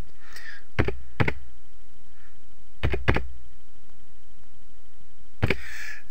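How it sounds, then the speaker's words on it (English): An ID number is typed on a computer keyboard, giving a few separate clusters of sharp, close key clicks with quiet pauses between them and no talking. "Let me type that in."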